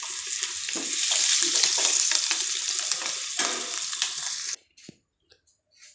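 Egg masala sautés in a pan with a loud, continuous sizzle and the scrape of stirring, then stops abruptly into near silence with a few faint clicks.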